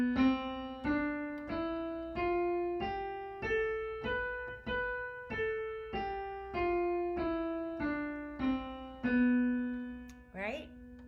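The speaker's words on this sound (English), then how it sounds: "So if we were to play all white keys starting on a B," A keyboard plays an all-white-key scale from B, with single clear notes stepping evenly upward and back down at a moderate pace, each decaying before the next, followed by a brief voice at the very end.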